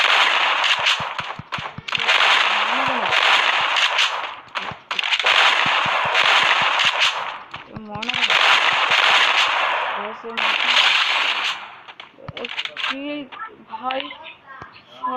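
Shotgun fire in the mobile game Free Fire, repeated loud blasts in bursts with pauses between them, while voices talk and shout excitedly over the shooting.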